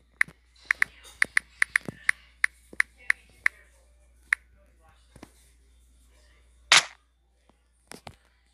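Video game gunfire from a Minecraft Pocket Edition guns and weapons addon: a rapid series of sharp, clicky shots, then scattered single reports and a louder burst, with a person talking in between.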